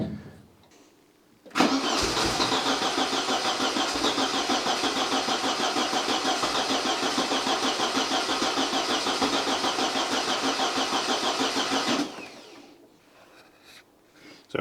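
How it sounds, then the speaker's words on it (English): After a brief quiet moment, a Porsche 924 engine, freshly overhauled, cranks and catches, then runs at a steady loud idle for about ten seconds before cutting off. "So there we go, the engine is running."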